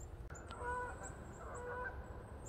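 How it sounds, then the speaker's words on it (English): Geese honking while flying south over a bush walking trail, a flock calling in repeated faint, distant honks over a steady outdoor background. "Oh, geese are heading south."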